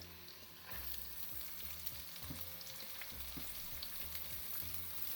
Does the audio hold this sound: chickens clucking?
no